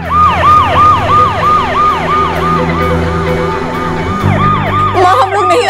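An ambulance siren wails loudly and close by in a steady rising-and-falling cycle, continuing throughout with a slight shift in tone toward the end.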